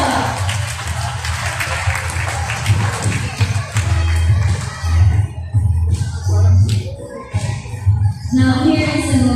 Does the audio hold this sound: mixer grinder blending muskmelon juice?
no